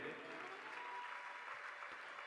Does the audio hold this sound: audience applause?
yes